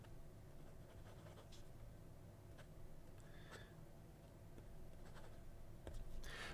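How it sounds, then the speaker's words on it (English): Faint scratching of an extra fine quill nib drawn across paper, soft and close, with a few light strokes and taps standing out from a low background hum. "Quill nib."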